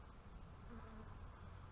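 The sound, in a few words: bees swarming around top bar hive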